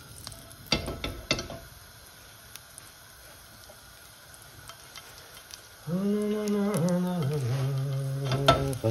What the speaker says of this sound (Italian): Mettiamo l'aglio nel grasso del guanciale. Alziamo un po' la fiamma.